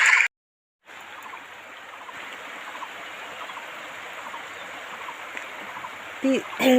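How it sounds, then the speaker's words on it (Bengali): Continuous rushing of the Murti River flowing nearby in the Dooars, steady and moderately loud after a brief gap, with a short burst of something else near the end. "মূর্তি নদীর জল বয়ে যাচ্ছে"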